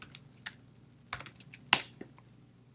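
Keys tapped on a computer keyboard, a handful of separate, irregular clicks close to the microphone in an otherwise quiet room.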